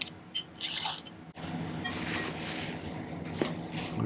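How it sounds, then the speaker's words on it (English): A hand file rasps in repeated scraping strokes across a metal cocktail ring piece to flatten it, close and moderately quiet, with a few sharper scuffs between the strokes. "Let's file it flat."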